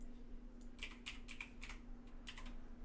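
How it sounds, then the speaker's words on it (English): Fast clattering keystrokes on a loud computer keyboard, a steady run of sharp clicks in irregular bursts over a low constant hum, with no talking. "I hate your loud keyboard when I'm typing names in"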